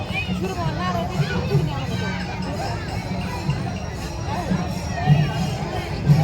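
A dense temple crowd on a Shravan Monday murmurs and chatters all around, voices overlapping in a continuous hubbub with occasional louder calls.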